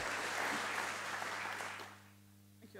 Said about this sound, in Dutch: Applaus nogmaals voor Hanneke.